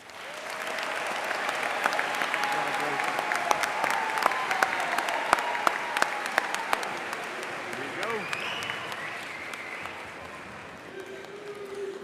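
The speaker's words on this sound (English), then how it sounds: "Let's give Grayson another round of applause." Audience applause at a high school graduation ceremony, a long, broad wave of clapping that builds, holds steady with scattered cheers and voices, then gradually fades.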